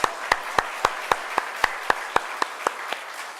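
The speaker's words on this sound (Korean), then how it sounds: "우리 살아계신 하나님께 영광의 박수 올려드립니다." A church congregation at a Friday-night revival service claps for God in a steady, evenly spaced rhythm, about a dozen sharp unison claps at a moderate pace, close and clear with no voices over them.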